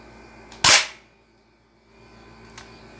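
A single sharp airsoft gunshot cracks loud and close, followed by a brief decay and a faint later click in a quiet room.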